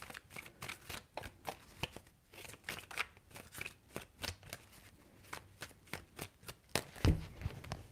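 A deck of reading cards is shuffled in rapid riffling bursts, crisp flicks and snaps repeating irregularly for several seconds, close and fairly quiet with no voices.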